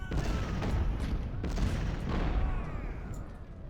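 Artillery guns fire in a Civil War battle video game at Gaines' Mill, a dense, continuous fusillade of booming cannon and gunfire with several sharper blasts standing out, loud and sustained throughout.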